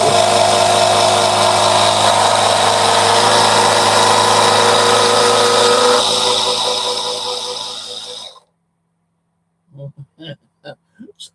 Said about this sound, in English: It's just like a bike air pump thing. Fucking noisy though.